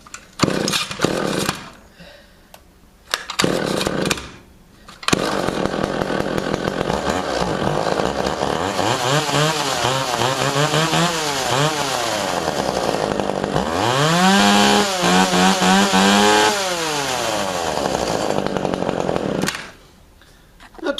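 A chainsaw sputters through a few failed pulls, then catches and runs loud and close, its engine revving up and down in repeated rising and falling surges before it drops back to idle and stops.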